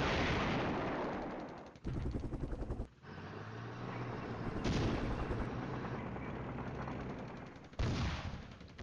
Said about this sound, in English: Got a decent bit of Russian artillery falling where we don't have any troops at all